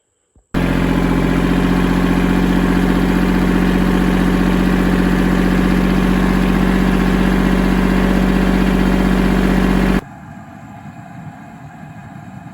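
A loud, steady tractor engine idles continuously with a low rumble, then cuts off abruptly, leaving quiet background noise.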